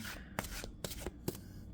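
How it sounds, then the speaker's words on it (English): A deck of tarot cards is shuffled by hand in several quick riffling bursts, crisp papery flutters close to the microphone against a quiet room. "as someone with smaller hands, it is kind of a pain, to shuffle it"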